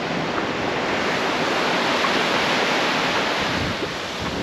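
Ocean waves wash steadily onto the white-sand beach of Thistle Cove in Cape Le Grand National Park, a continuous broadband surf roar with wind buffeting the microphone and no voices.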